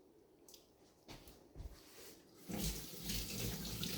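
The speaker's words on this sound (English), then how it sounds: "Gotta wash my hands." Water from a faucet runs into a kitchen sink while hands are washed, starting with soft splashes and irregular drips and then swelling into a fuller, steady stream up close.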